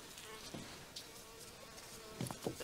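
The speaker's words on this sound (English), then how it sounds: "Bees can't see the glass and then they get confused on the glass and fly against it like crazy" A bee buzzes and bumps against window glass indoors, a faint, steady drone broken by a few brief thumps and flutters.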